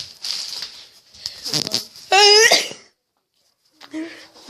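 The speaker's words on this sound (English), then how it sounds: "I just sneezed." A child sneezes indoors: a loud, sharp burst with a brief inhaled lead-in and a strong voiced release, set among softer breathy vocal sounds and followed by a pause of silence.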